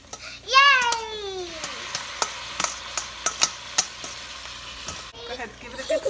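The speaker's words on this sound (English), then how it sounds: "Now we're going to put in the broccoli rabe. And then you can stir it up." Broccoli rabe sautéing in a pan, with a series of sharp, evenly spaced scraping taps from stirring over a faint sizzle. A voice rings out briefly near the start, and another voice is heard at the end.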